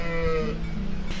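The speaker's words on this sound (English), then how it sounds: "the sheep are mooing" Farm animals in Switzerland, called sheep, give one loud, close, drawn-out mooing call with a cattle-like tone. It fades after about half a second into outdoor background noise, with no talking.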